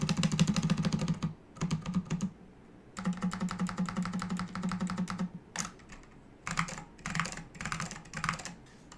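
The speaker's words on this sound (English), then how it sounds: "Here's what the stabilized keys sound like." Rapid clicky keystrokes come from typing on an SKCM Orange Alps64 mechanical keyboard with stabilized keys. The typing runs in close, crisp bursts broken by short pauses, with a few heavier separate key presses near the end.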